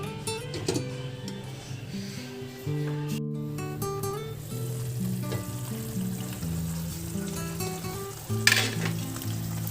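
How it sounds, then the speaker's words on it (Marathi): Prawn rassa masala simmering in a pan, a continuous soft sizzling bubble that holds steady throughout beneath a melodic background music track, with no one talking. "आता ह्याला एक उकडी येईपर्यंत आपण शिजत ठेवूया"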